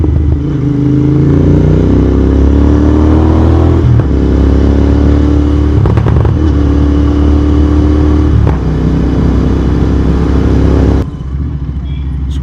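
Royal Enfield GT650 motorcycle riding on a road and overtaking, a loud continuous engine drone with rising and falling revs and wind noise, cutting off near the end.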